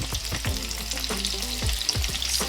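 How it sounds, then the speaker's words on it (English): Breaded portobello mushrooms coated in flour and panko with parsley, garlic and salt frying in a pan: a dense, continuous sizzle and crackle with occasional stirring clatters, close and steady, no talking. "we're getting ready to fry up these mushrooms that I have, portobello mushrooms"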